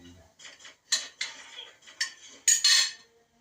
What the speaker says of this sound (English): I'm gonna cut up the pork.